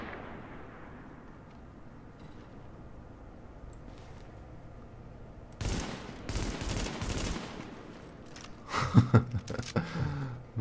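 Gunfire shootout in Tom Clancy's The Division, PvP: low rumbling game ambience gives way to a sudden burst of loud shots and blasts, then a second heavier volley near the end.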